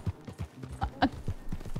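Horse hooves clip-clopping at a steady trot in the RedM roleplay game, a quick regular run of fairly close hoof beats with a brief whinny-like note mixed in.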